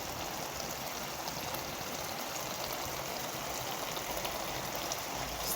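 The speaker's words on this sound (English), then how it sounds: "so there you have everything simmering nicely" Jamaican ackee and saltfish made with canned ackee simmers in a pan over low heat, a steady close hiss and soft bubbling that runs continuously without pause and with no one talking.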